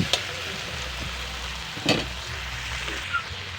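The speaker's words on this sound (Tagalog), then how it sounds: "Tapos lalagay ko na guys yung kamatis. Igisa ulit natin siya." Tomato sizzles in a pan with sautéed onion and garlic, a steady soft frying hiss broken by a few utensil clinks and stirring scrapes, close and moderately loud.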